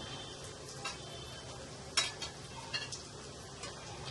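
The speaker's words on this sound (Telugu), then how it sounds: "బాగా అల్లం వెల్లుల్లిపాయ పచ్చి వాసన పోయే వరకు వేపుకుందాం" Green chilies and ginger garlic paste fry in a pan for a prawn egg curry, a faint steady sizzle with occasional soft scrapes and clicks of a stirring spoon.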